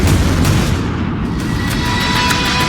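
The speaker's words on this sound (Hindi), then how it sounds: "और फिर नोवोरोसिस्क अड्डे पर होता है बड़ा धमाका।" A loud blast at the Novorossiysk naval base: a heavy, broad rumbling boom that fills the moment and rolls on steadily with no voices over it.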